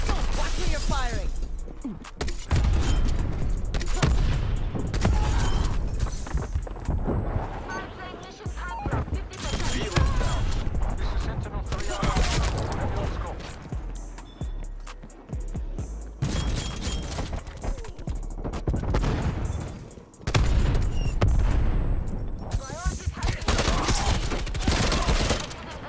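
Rapid fusillades of gunfire in a Call of Duty: Cold War match, including Tec-9 fire, loud and near, with repeated bursts and brief gaps across the stretch, under in-game voice callouts.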